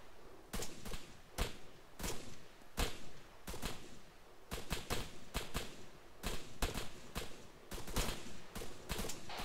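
Bursts of gunfire in the Arma 3 military shooter, sharp cracks and short volleys firing in irregular clusters throughout, loud and close with no talk.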